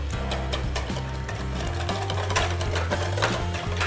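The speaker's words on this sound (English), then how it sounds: "just whisk that all together until it's all combined" A whisk beats a large free-range egg into wet peanut butter cupcake ingredients, with rapid, steady scraping strokes against the bowl, close and continuous with no talking.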